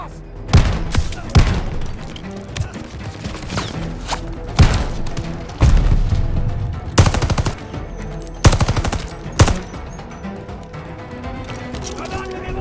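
Call of Duty Vanguard battle scene with heavy cannon blasts and bursts of automatic gunfire, loud booming shots spaced irregularly over continuous combat noise, with voices shouting in between.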